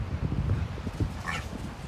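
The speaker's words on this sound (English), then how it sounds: "dog's crazy, loves beach" At the beach, an excited dog gives short yips and whimpering whines over a low rumble of wind and surf. The sounds come close and in quick, uneven bursts.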